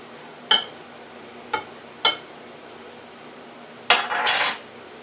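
A utensil clinks against a bowl while mac and cheese ingredients for a creamy three-cheese rotini dish are mixed: three sharp, separate taps, then a longer scraping clatter, close and clear with no talking.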